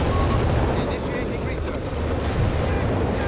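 Artillery barrage in Company of Heroes 3 strikes a pack howitzer position, a continuous rumbling roar of heavy blasts, loud and dense throughout with no pauses.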